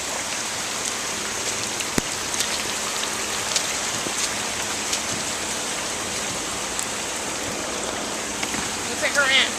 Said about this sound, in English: I'm out in the rain. I had to put my rain boots on.